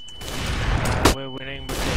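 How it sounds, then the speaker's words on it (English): A flashbang grenade going off in a tactical shooter game: a sharp bright burst cuts through ongoing gunfire-like game noise, followed by a high ringing tone, with a voice calling out over it. "Flashbang!"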